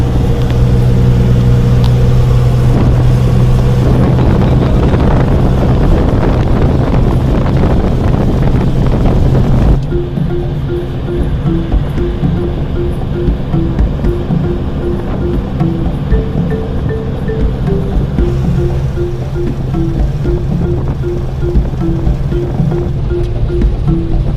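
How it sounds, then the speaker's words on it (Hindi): Hot desert wind in Rajasthan buffets loudly and steadily, roaring across the microphone for the whole stretch, with a change in the blustery texture midway and no voices. "बहुत गर्म हवा चल रही है।"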